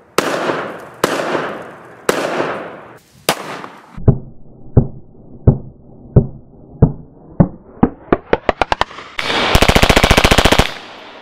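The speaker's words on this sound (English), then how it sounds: "Soft shooting 380, probably one of the softest shooting 380s I've ever shot" Gunshots from a soft-shooting .380 pistol ring out as loud, sharp reports, first a few widely spaced shots, then a steady series that speeds up and ends in a rapid full-auto-like burst, with no talking.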